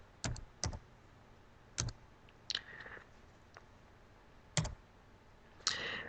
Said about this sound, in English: the way you invite people to share is basically you start typing their name